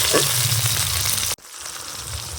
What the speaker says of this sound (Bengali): আর একটা টমেটো কুচি দিয়ে দেবো পেঁয়াজ আর টমেটোটা একটু ভেজে নেব